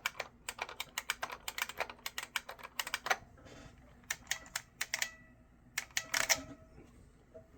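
Fast bursts of typing on an IBM Model F XT capacitive buckling spring keyboard ring out as loud, crisp, springy clacks. They come in quick runs with brief pauses, close up, and no one speaks.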